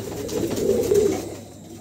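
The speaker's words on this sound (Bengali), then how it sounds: "দর্শক এখানে একজোড়া মডেনা আছে, দেখেন চমৎকার একজোড়া মডেন আছে" A pair of Modena pigeons coos in a low, steady murmur, close and fairly loud, swelling through the middle and fading toward the end with no voices over it.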